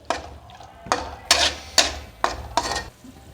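Prawn karahi cooking in a pan over a low flame, with about six distinct metallic clanks and scrapes from stirring, spaced roughly half a second apart and moderately close, with no talk over them.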